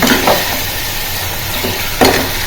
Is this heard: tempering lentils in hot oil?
yes